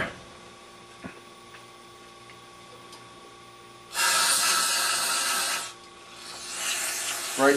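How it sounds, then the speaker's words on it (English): Cleaner sprays from an aerosol can into a carburetor in a sharp, loud hissing burst of about two seconds, followed by a second, softer spray a moment later against a quiet workshop background. "Spray down in there really good."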